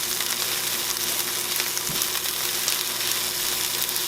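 Onions sizzle and fry steadily in a hot pan while caramelizing, a constant close crackling hiss with no talk.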